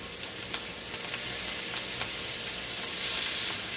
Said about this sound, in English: I'm going to saute the mushrooms. Put the mushrooms in there.